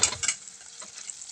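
Spices such as turmeric, coriander powder and red chilli powder sauté in a pan for a garlicky spinach dish, giving a quiet, hissing sizzle broken by a few light scraping stirs near the start.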